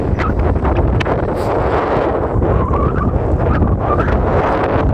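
Strong wind buffets a microphone outdoors at a fishing spot, a loud, continuous roaring rush with gusty surges and no speech.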